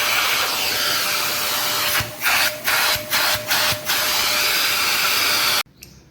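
A Makute 2-in-1 blower/vacuum runs with a loud, steady whine from start to finish. About four short pulses break the drone near the middle, then the motor cuts off sharply just before the end.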